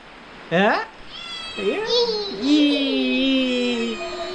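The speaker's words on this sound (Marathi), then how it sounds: "विहा म्याव बरोबर खेळते कुठे आहे म्याव काय करते म्याव" A cat meows several times close by. The calls are drawn out and wavering, with short pauses between them.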